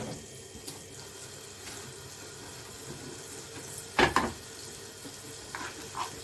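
Steady low sizzle of garlic browning in a pan, with a few sharp clinks and stirring clatters partway through and near the end.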